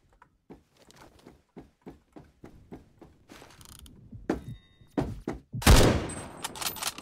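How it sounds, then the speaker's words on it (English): Tech 9 fire in the shooter game Phantom Forces: a run of sharp, evenly spaced gunshots with mechanical clicks, ending in a louder, denser burst near the end. "Tech 9 is a good gun. It has 1500 fire rates"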